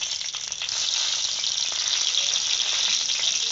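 Dried red chillies and bay leaves fry in hot oil in a kadai, giving a loud, even, crackling sizzle that holds steady throughout with no voices.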